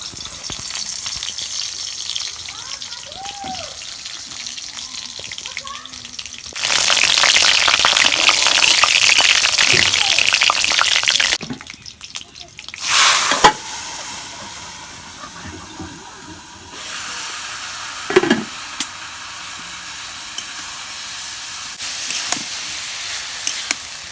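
Garlic sizzling in hot oil while cooking a banana blossom and banana stem dish, a broad bright hiss that swells loudly, drops out briefly, then continues at a steady level with a few small pops.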